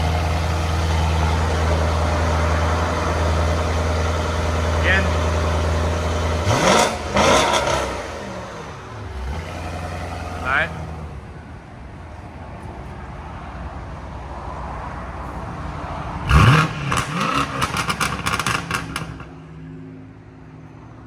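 BMW M850i with a 4.4-litre twin-turbo V8, catless downpipes and an X-pipe, exhaust valves closed, idling with a steady low drone and then snapping through two sharp revs several seconds apart; a brief voice speaks between them.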